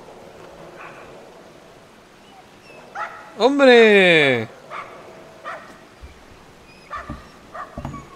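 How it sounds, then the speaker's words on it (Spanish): A dog gives a drawn-out, rising whimpering bark midway, with a few shorter yips and whines around it, close by, while people talk and exclaim in the room. "¡Es el perro!"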